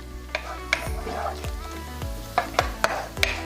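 Garlic, olive oil, pepper, salt and parsley sizzle in a pan for aglio e olio, a steady frying crackle broken by several sharp spoon scrapes and clinks against the pan.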